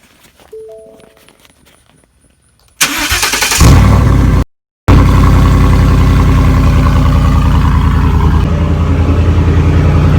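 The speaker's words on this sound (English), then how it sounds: "the truck right now is extremely, extremely loud" A few faint clicks, then the 5.0 V8 engine of a 2015 Ford F-150 with muffler and resonator removed cranks and roars to life very loudly, settling into a harsh, booming unmuffled idle that dominates everything.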